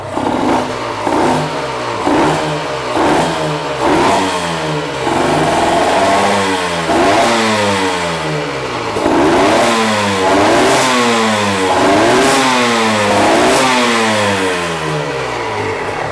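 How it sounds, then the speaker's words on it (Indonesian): A Honda NSR 125 JC22 two-stroke motorcycle engine revs hard again and again, each rise and fall in pitch sharp and rhythmic, loud and close throughout. "Kalian bisa lihat nih, RPM-nya cepet banget ya."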